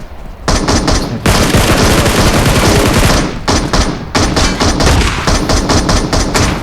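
Shotgun and rapid gunfire in PUBG on the Livik map, loud sustained bursts of shots with brief gaps between volleys and no talking.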